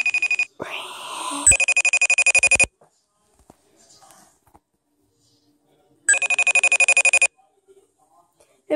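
A phone rings on an outgoing call, two bursts of repeated electronic trilling separated by a long quiet gap, loud and close.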